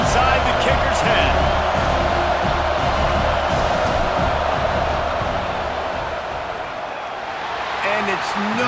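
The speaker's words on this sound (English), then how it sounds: "This crowd trying to do its part to get inside the kicker's head." In a college football video game, a stadium crowd at Iowa City during a Penn State field goal attempt gives off a steady, dense roar throughout, with a commentator talking over it.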